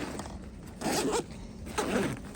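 A zipper on a small pouch is pulled in two quick, close rasping strokes.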